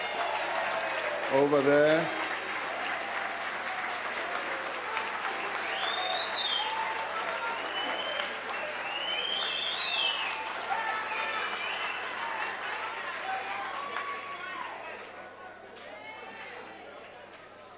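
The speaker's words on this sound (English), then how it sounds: "I never get this type of applause, so I'm jealous" Members of the South African Parliament give long, sustained applause, a loud wash of clapping that fills the chamber, with occasional whoops and shouts rising above it and a few spoken words near the start.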